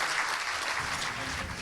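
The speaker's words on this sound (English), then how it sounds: "Please put your hands together for these 4 individuals." An audience at a chamber of commerce awards ceremony claps steadily as four honorees are called to the stage, a dense, even patter of hands filling the room.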